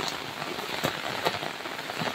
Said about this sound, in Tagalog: Ang ganda pero ang lakas na ng ulan.